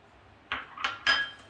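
Boiled potato and cauliflower mashed together in a pot for paratha filling: three quick scraping, clinking strokes of a utensil against the vessel, close and fairly loud, after a short quiet start.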